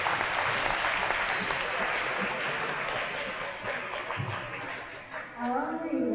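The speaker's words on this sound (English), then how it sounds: "She said you can applaud that." Audience applause at a middle school gathering, a steady wash of clapping that fades toward the end, with a few chuckles and a voice speaking as it dies down.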